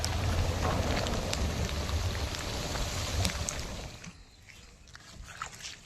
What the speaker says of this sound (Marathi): मुसळधार पाऊस आलाय